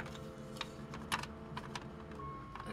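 A replacement ZX Spectrum keyboard is pressed into its push-fit sockets, making a few faint plastic clicks and taps over a steady low hum. The sounds are close but quiet.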